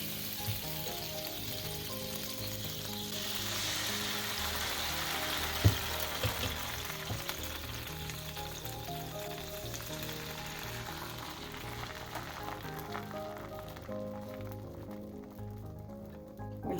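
Dosa batter sizzles on a hot flat pan at medium heat, a steady crackling fry that runs unbroken for the whole stretch with no talk over it.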